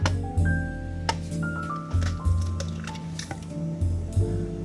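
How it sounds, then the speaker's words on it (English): Eggs cracked for chocolate chip banana zucchini bread produce close squishy cracks, clinks and drips against a bowl, scattered through the clip alongside a sustained musical tone in the background. "these eggs don't crack very well"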